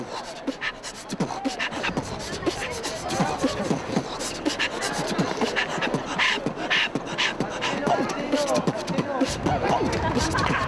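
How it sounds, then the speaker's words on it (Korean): Citizens applaud at a street performance in Britain: dense, sustained clapping fills the whole stretch, with crowd murmur mixed underneath. "시민들의 박수 소리에 모두들 안심하는 눈치"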